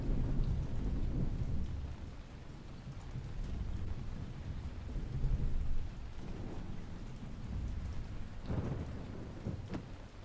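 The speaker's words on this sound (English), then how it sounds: "Gosh, that's some heavy rain." Heavy rain pours steadily while deep rolls of thunder rumble through it in the video game Ancient Cities, a dense continuous downpour with a louder thunder swell near the end.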